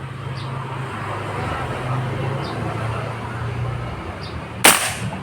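One crisp air rifle report from a Yumaja Sempiternal firing a pellet, a sudden close snap near the end after a stretch of low steady background rumble.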